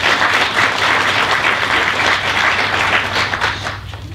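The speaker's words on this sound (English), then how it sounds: "I'd like to please ask for a round of applause for the panel." Applause from an audience for a conference panel, a dense burst of clapping that fills the room and fades slightly at the end.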